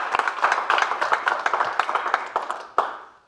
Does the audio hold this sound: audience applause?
yes